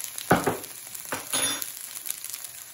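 Jarred ginger garlic paste sizzling in a pan for egg fried rice, in a few short bursts of hiss and crackle, close and moderately loud.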